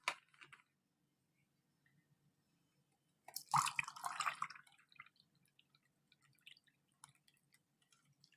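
Milk pours into a mix of whipping cream for homemade ice cream, a quiet, close splashing pour of about a second amid scattered small clicks and taps.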